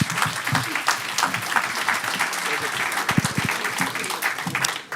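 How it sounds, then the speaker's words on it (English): Audience applause for panelists at a financial policy symposium, a sustained, even wash of clapping for about five seconds with a few low voices mixed in. "round of applause for all of our panelists today and all our moderators"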